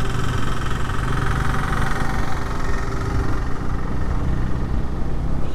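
A 2024 Bajaj Pulsar N160 motorcycle engine running while riding at low speed in top gear, a steady, close mechanical hum with constant wind and road noise, no talk.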